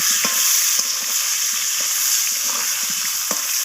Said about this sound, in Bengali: তো আমি স্কোয়াশটাকে নাড়াচাড়া করে ভেজে নেব লালচে করে।